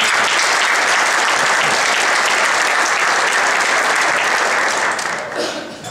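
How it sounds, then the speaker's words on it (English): A large audience at a Navy forum in San Diego gives a sustained, loud round of applause that holds steady for several seconds before starting to fade near the end. "we're extending her a round of applause"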